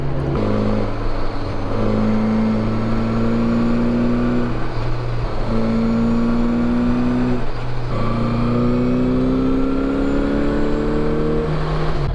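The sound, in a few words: classic 1981 motorcycle engine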